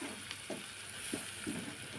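Tomatoes tumble into a pan of softened onions for a prawn and taro curry, giving a steady close frying sizzle marked by several soft stirring scrapes at an uneven pace, with no voices.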